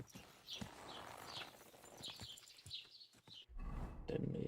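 A horse in the medieval video game Kingdom Come: Deliverance 2, with faint hoof clip-clops and snorting amid quiet game ambience, then a low rumbling swell near the end.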